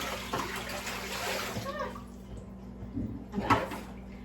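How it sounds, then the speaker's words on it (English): Water running and splashing as a pan used for making laundry soap is rinsed, a soft close wash of flowing water with a couple of louder splashes, quiet throughout. "I was rinsing this because I just made soap in it, so I just needed to rinse it."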